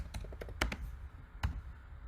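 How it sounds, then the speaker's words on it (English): Sparse keyboard typing during a livestream, a few quiet clicks and taps scattered through the short stretch, faint and close, with no talking. "I hear typing."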